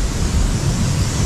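The swollen Parvati river, rising in a Himachal flood near Kasol, rushes past as a loud, dense, continuous roar with no breaks or voices.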